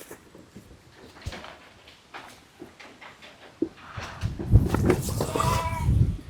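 Goats bleat on a livestock farm during deworming, scattered calls and handling clatter at first, building into louder, overlapping bleats close by toward the end.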